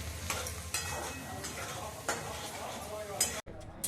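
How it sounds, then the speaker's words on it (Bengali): Vegetables fry and sizzle in a pan while a utensil stirs them, scraping in repeated strokes every half second or so over a steady hiss, with a voice talking faintly in the background. "এখন আমি সবজিগুলো ভাজছি"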